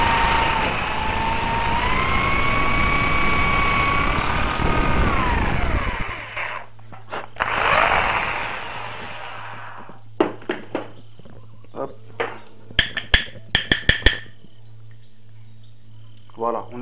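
An electric drill bores a larger hole in wood while a training nunchaku is being made. A loud whining motor runs steadily, drops in pitch and stops, then revs briefly again. Scattered clicks and knocks follow as the drill is handled.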